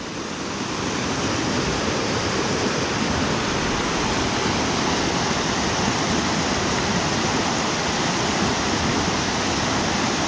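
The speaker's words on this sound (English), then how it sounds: "The river at Mindo." Loud, continuous rush of the river at Mindo in the rain forest, a dense unbroken roar of fast-flowing water close to the microphone, with no voices.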